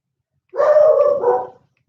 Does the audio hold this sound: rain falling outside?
no